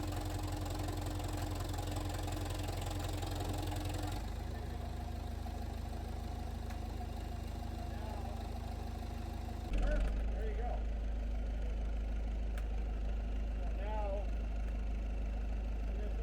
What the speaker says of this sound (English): confirm with the backhoe operator that he knew the plan